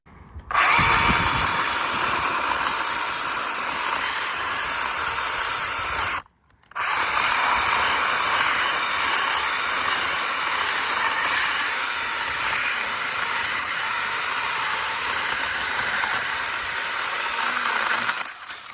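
A Makita UC029G cordless mini chainsaw whines steadily as it cuts through elm wood, loud and close, with one brief pause before the cutting resumes and carries on to the end.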